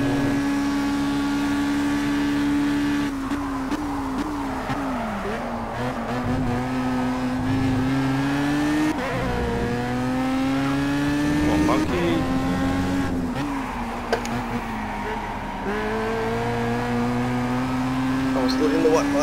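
Race cars in a sim racing game at the RSR International Cup in Germany, engines droning loud and continuous, pitch rising and falling through gear changes and braking into a slow corner, with a commentator talking over them throughout.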